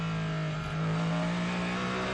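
Cadillac and Peugeot 9X8 hypercars race through a corner at COTA during a WEC event, their engines holding a loud, steady high-pitched drone that rises slightly as they power on, with no voices.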